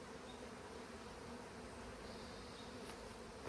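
Honey bees in an opened beehive during a frame check give a faint, steady, continuous buzzing hum, low and unbroken, with no voices.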